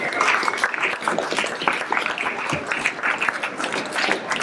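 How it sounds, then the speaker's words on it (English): A panel audience claps for a speaker being introduced, dense continuous applause that fills the room for several seconds, fairly loud and steady with no one talking over it. "Give her a round of applause."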